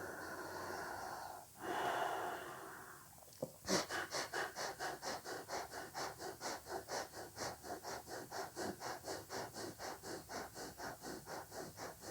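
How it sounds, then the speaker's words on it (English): Quiet breathing during a Kundalini yoga practice: a couple of slow, deep inhales and exhales into the belly, then a long run of quick, rhythmic, evenly spaced sniffing breaths that continues to the end. "breathe deep into the belly, a couple breaths"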